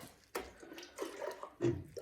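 Water poured into a bucket while mixing a Bordeaux mixture, a few soft splashing gushes in quick succession, quiet and close, with no talking.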